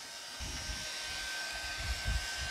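A hair dryer roars steadily behind a cardioid phone microphone, a constant close whooshing blow with low rumbling fluctuations and no speech.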